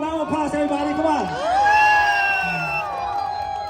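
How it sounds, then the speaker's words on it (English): Crowd cheering and whooping at an outdoor Lao boat race celebration in Merced, loud, sustained shouts and rising yells with voices swelling together over a few seconds. "Give him a big round of applause, everybody."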